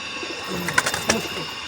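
A high-flyer pigeon's soft coo, brief and fairly quiet, with faint background noise around it.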